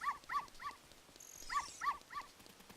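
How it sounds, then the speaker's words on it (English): A dog in The Legend of Zelda: Ocarina of Time gives six sharp barks, three in quick succession, a short pause, then three more, fairly near and clear, with a faint high electronic chime between the groups. "the dog that runs back there is the dog you're looking for"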